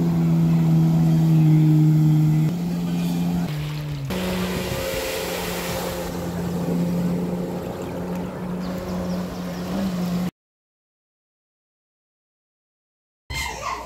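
A jet ski running on water gives a steady engine drone with a shifting pitch and rushing spray and wind noise, loud and continuous before cutting to near silence.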